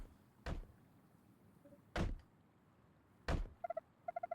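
Three heavy door thuds land at well-spaced intervals in a video game cutscene from Alabaster Dawn, each a loud low impact. Short bright electronic chimes follow the third, repeated in two quick bursts.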